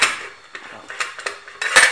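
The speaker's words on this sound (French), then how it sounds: "Je ferme la marmite et je laisse cuire" A metal lid settles onto a cooking pot of Moroccan harira with chickpeas, producing a few sharp clinks and rattles close by, ending in a brighter clatter as it seats.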